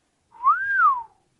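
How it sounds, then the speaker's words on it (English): A man gives a single low whistle that rises and then falls in pitch, lasting under a second. It sounds clear and close, alone against silence. "He gives a low whistle."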